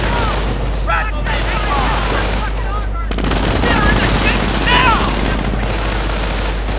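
A machine gun squad garrisoned in a building fires in Company of Heroes, sustained loud bursts of automatic gunfire with booming impacts, heard under a commentator's voice.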